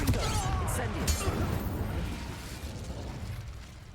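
Confringo and Incendio spell blasts fired in the video game Hogwarts Legacy, a dense, loud burst of fiery explosive noise at the start that rumbles on and slowly fades, with a voice speaking over it.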